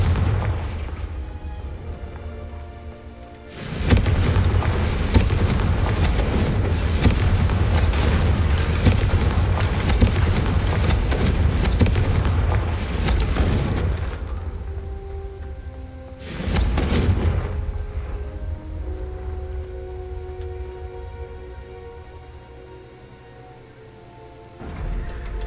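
Confringo spell blasts in Hogwarts Legacy burst with a loud, sustained fiery roar and booming rumble, fading into a lingering tail, then a second shorter blast erupts and dies away under quieter game ambience.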